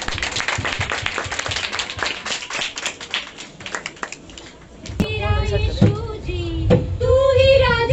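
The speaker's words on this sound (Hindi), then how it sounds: "एक जोरदार ताली बजाइए" A congregation at a church Christmas celebration in Lucknow claps vigorously in a steady, crowded patter for about five seconds. Singing and music then take over.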